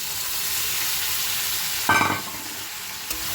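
Potatoes sizzle and fry in a pan, then a paste of ginger, garlic, onion, chilli, tomato, cumin and coriander goes in and the sizzle surges loudly before settling into a steady fry, with a small clink near the end.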